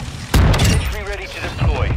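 A sentry gun fires in Call of Duty MWII, a loud, dense burst of automatic gunfire with booming impacts under excited voice chat.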